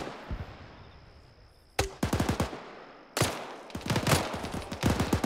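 Rapid gunfire and 40mm grenade blasts crackle in a military simulation game, with bursts of automatic fire, a sharp thump, then a longer dense volley, loud and close against a quieter hiss.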